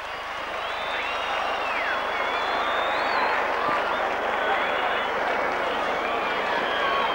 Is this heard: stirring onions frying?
no